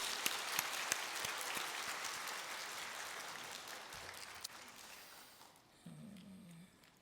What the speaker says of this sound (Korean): 다시 한번 격려의 박수 부탁드립니다.